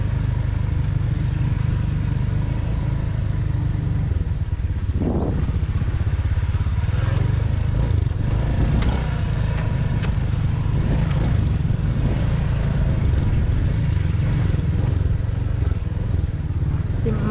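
A motorbike riding along a highway in San Jose, Negros Oriental, Philippines, with a steady loud engine drone and road and wind rumble throughout, a brief clatter partway through, and faint voices in the background.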